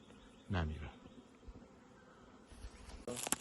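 Honeybees at a home beehive on a hot day, a brief rising buzz of a bee passing close to the microphone, then faint background hum and scattered rustles with a few louder buzzes at the end.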